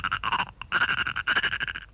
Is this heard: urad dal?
no